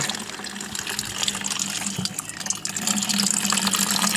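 Water pumping through a newly started aquaponics radial flow filter, a steady gushing, filling flow close by that runs without a break and swells a little toward the end.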